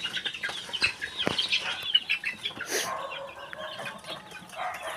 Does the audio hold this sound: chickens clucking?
yes